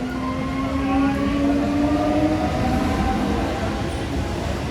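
A crowded passenger train pulls out of a packed station at the Tarakeswar Shravani fair, its steady rumble and drawn-out mechanical whine sounding close and continuous, with no talk over it.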